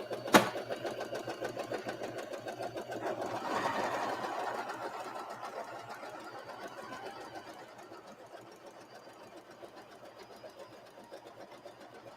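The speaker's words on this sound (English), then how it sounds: "there is an extra stitching all around here as an extra wall for that rice" A sewing machine stitches white fabric for a rice-filled heater bag, adding an extra seam all around; a brief click opens a continuous, close, rapid mechanical whir that swells midway and then eases, with no talking.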